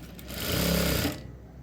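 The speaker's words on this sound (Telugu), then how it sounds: "చివర ఒక 1/4 ఇంచ్ వెడల్పుతో స్ట్రైట్గా ఒక కుట్టు అనేది వేసేసుకోవాలి" A sewing machine stitches a straight seam on a blouse in one continuous close whirring run of about a second, stopping abruptly, with no talk.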